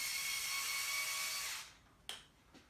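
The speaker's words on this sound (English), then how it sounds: "we'll just grab a drill and just clean off the bit of plastic that's in there" A power drill clears a small plastic burr from inside a hole in a freshly made part: a steady high whine for about a second and a half, then it cuts off, followed by a couple of sharp clicks.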